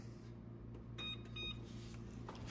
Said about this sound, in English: Timer for the bacon is done